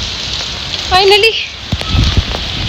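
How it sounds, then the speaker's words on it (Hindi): Very heavy rain pours steadily as broadband noise throughout, with someone briefly speaking over it. "बहुत बहुत तेज बारिश हो रही है।"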